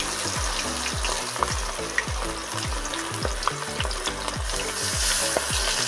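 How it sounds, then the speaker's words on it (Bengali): Cabbage pops deep-frying in hot oil, a dense continuous sizzle and bubbling with a regular pulsing rhythm of lower thuds, close and loud with no voices. "তবে এইভাবে আমি সবগুলো ভেজে নেবো"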